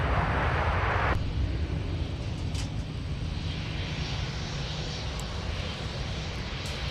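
Airliners taxiing at Minneapolis–Saint Paul airport, a steady, fairly distant jet engine whine and rumble that holds at an even level throughout, with no voices.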